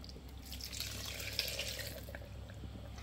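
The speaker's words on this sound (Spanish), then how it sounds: "vamos a ponerle el agua." Water streams from a tap into a frying pan while chicken cooks, a faint steady running splash with light trickling and a small drip, no voices.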